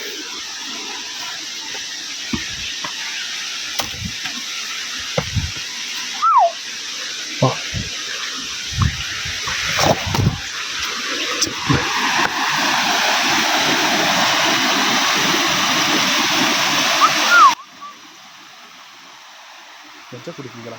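Water rushes along a stream near Theni in a steady broadband wash that swells loudest toward the end, then cuts off, with people talking over it at times.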